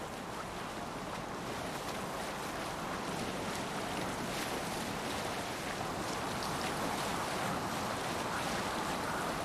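In a video game, a boat sails across open water. A continuous broad wash of waves and wind rushes along at a steady loudness, with no talk.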